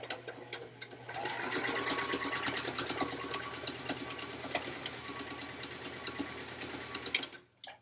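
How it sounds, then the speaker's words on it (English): Sewing machine running a diagonal back stitch on a fabric cover for an N95 mask: a close, steady whirring stitch that starts after a second, holds for several seconds, then stops abruptly, no talk. "And then we're going to sew in a nice diagonal back stitch."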